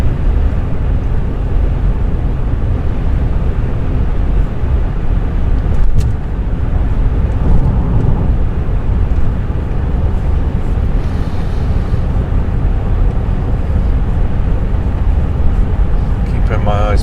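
A car cruises along the A2 dual carriageway between Whitfield and Canterbury, with steady, loud road and engine roar that holds constant throughout, close and unbroken, and a brief knock partway through.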